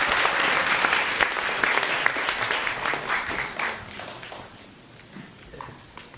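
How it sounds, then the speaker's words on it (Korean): An audience at a Korean science lecture applauds to welcome the head of the fourth-generation accelerator project, a dense wave of close clapping that gradually thins and fades out. "큰 박수 부탁드립니다."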